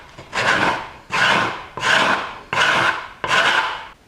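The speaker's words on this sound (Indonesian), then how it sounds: "ini buat ngalusinnya saya pakai scraper" Hand scraper drawn across a wooden workpiece to smooth it, five loud rasping strokes in an even rhythm, each about half a second long with short pauses between, heard alone and close.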